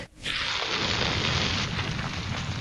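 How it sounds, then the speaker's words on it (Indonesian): A loud, sustained anime explosion roars up after a brief quiet start, a dense broadband rumble that holds steady without pause. "Ledakan yang disebabkan oleh Pedro, kerusakannya cukup fatal"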